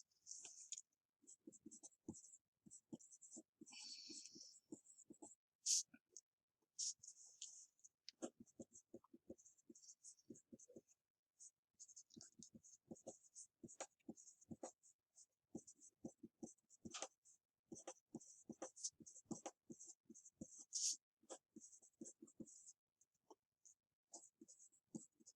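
Pencil writing on paper in quiet, irregular bursts of light scratching strokes, close and faint, with pauses between words.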